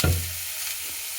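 Garlic, onion and capsicum stirred in a hot frying pan, giving a brief close sizzle and scrape that quickly fades to a soft hiss.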